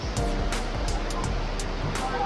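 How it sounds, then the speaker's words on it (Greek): The Erkyna river flows at the Krya springs in Livadeia, Greece, a loud, close, continuous rush of water with choppy buffeting bursts throughout. "Εδώ βλέπουμε το ποτάμι, την Έρκινα."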